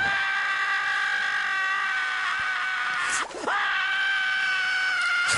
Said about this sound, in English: Squidward is just screaming there